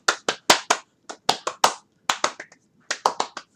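Sharp hand claps, close and loud, in uneven bursts of two to four with brief pauses between groups.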